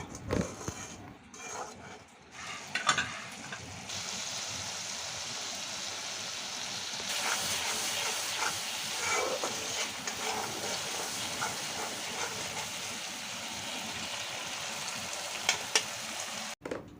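Dried Loitta fish sautéing with spices, salt, coriander and turmeric in a hot pan, a steady hiss and sizzle broken by scraping stirs and occasional clacks of a utensil.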